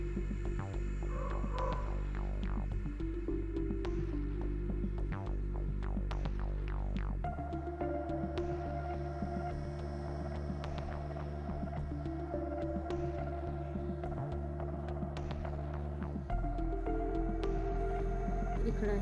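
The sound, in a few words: sewing machine stitching a blouse seam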